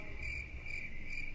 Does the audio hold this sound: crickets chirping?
yes